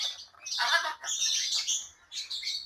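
Parrot at a pet shop giving harsh, raspy squawks and chirps in several close, loud bursts with short pauses between them.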